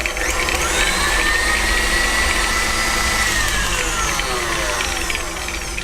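An electric mixer whirs steadily while mixing chocolate almond cake batter, with egg yolks going in one at a time at reduced speed; the loud, continuous motor hum holds throughout with no talking.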